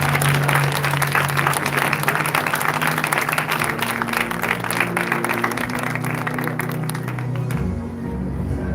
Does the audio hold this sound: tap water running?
no